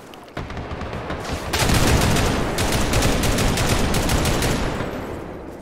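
Rapid, sustained gunfire during a video game firefight: dense overlapping bursts that swell louder after a brief lead-in and roll on continuously without a break, with no talking.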